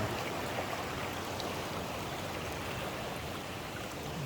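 A steady, continuous rush of water flowing out from under a mountain, even and fairly loud throughout, with no talking.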